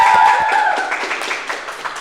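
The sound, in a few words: audience applause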